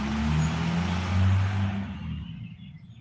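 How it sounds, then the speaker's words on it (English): A loud, oddly rough truck engine drones close by in a park, its low, uneven rumble swelling and then fading away as it passes, with no one talking. "Boy, he's got a loud truck. It's not just loud, it's weird sounding."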